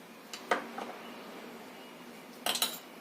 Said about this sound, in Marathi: व्यवस्थित असं हलवून घ्यायचं पीठ